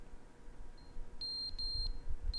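Electronic beeps, high and piercing: one faint tone, then two longer loud ones in quick succession and a brief start of another, over a quiet room with low rumble.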